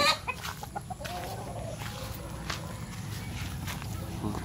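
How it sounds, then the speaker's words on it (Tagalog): Backyard chickens mill about a small coop, with scattered soft clucks and rustling, footstep-like scratches and a few brief calls under a faint background hum. A person speaks at moments. "inaalagang manok dito sa aming munting manukan."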